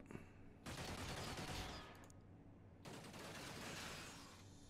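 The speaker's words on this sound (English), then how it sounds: "Just full auto gunfire coming out of our corner into theirs." Two long bursts of rapid automatic gunfire in the video game Xenonauts, dense and continuous, separated by a short lull, heard up close without talk.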